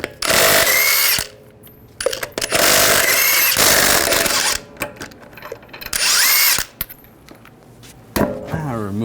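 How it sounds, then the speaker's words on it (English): Loud bursts of a power tool whirring through a 22mm socket as it spins off lug nuts on a 2011-2018 Ram 1500, three long runs separated by short pauses with clanks, and a final brief burst. "Using a 22mm socket, we're going to take the lug nuts off."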